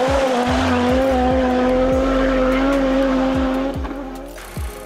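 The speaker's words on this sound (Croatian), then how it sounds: "Audi petak ima specifičan zvuk, čak ljepši od 6 cilindraša, a u nekadašnjoj grupi B čuo se ovako." An Audi five-cylinder Group B rally car engine holds a loud, sustained, close howl with a few sharp tire squeals, then fades slightly near the end.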